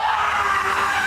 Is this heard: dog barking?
no